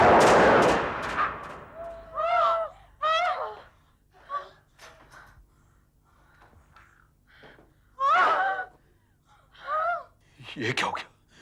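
A sharp, loud burst like a gunshot opens, followed by tense, breathy voices and gasps in short bursts.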